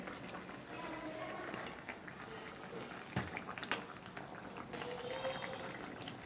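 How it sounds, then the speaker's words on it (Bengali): Fish curry with raw banana and potato bubbling in a pot, a steady close simmering hiss with faint pops and a couple of brief clinks around the middle. "বন্ধুরা আমি এখন মাছগুলো দিয়ে আর একটু ফুটিয়ে নেবো"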